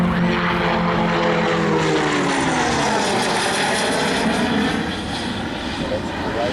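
A military aircraft at the Avalon Airshow passes overhead, its loud engine drone sweeping down in pitch with a rushing, whistling wind tone, while a voice talks over it.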